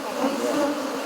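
A dense swarm of honey bees, some fifty thousand kept in a small wooden hive box, gives off a continuous, even buzzing drone, close and moderately loud, with no voices.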